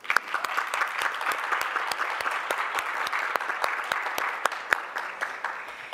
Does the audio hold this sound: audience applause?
yes